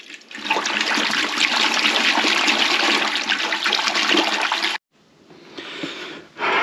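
Warm water pours steadily into a bucket in a loud, continuous splashing rush, stops abruptly, then a softer trickle and running flow follow.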